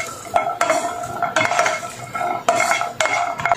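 Garlic cloves dry roasting in a pan with no oil, stirred by a metal utensil that scrapes and clanks against the pan in repeated sharp strokes, close and fairly loud, with barely any sizzle.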